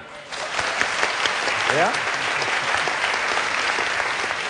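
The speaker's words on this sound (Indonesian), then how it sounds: "Tepuk tangan." A studio audience at a televised debate breaks into applause, steady dense clapping that swells after a brief quiet start, with a short spoken interjection over it.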